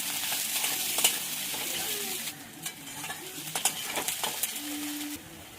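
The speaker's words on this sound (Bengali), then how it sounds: "পেঁয়াজটা ভাজা ভাজা করে নেবো একটু।" Chopped onions frying in hot oil for chicken kosha, stirred with a spatula: a gentle continuous sizzle broken by scraping strokes and clicks, close and fairly quiet, with a brief faint tone near the end.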